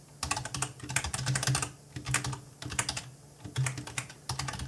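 Rapid computer keyboard typing while entering code, quiet bursts of clicking keystrokes separated by brief pauses, close and alone with no voices.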